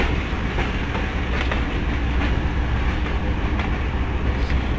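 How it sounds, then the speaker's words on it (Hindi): Shuttle train running on a track between Malakwal and PDK, gathering speed with a loud, steady rumble and rhythmic clickety-clack of wheels over rail joints, heard close from on board with no talking. "अभी फिर दोबारा ट्रेन अपनी स्पीड पकड़ रही है और अपने सफ़र को जारी रखते हुए"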